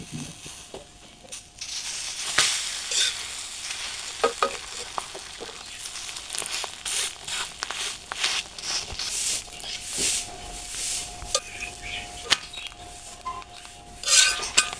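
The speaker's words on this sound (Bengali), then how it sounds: "আমার রোলটা ভাজা হয়ে গেছে" An egg roll fries in a pan with a steady, close sizzle, broken by intermittent scrapes and taps of a utensil against the pan, with no talking.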